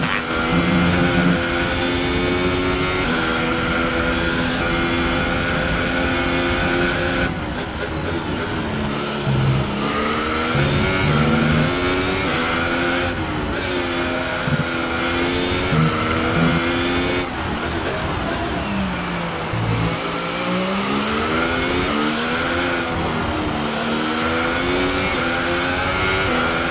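Formula 1 car engine from the F1 2018 racing game on the final lap in Australia, a loud continuous high-pitched whine rising and falling with repeated gear shifts and revving, no talk.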